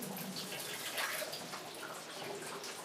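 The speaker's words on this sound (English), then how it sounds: "So the Atama, I will now drain it off." Water drains off boiled atama leaves for soup, a soft close splashing and trickling that runs steadily for a few seconds.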